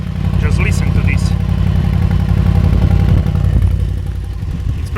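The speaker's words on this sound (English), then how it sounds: "It's pretty loud here with the sort of cold start." A deep, loud V8 engine of a 2025 Mercedes-AMG G63 idles after a cold start with a steady low rumble and faint rattles, heard close up throughout.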